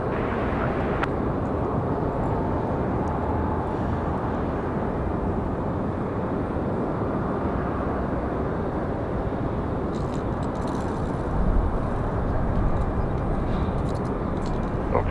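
Airliner departing Raleigh-Durham International, a loud, steady broadband jet roar that fills the whole stretch without letup, with faint brief bursts of radio chatter.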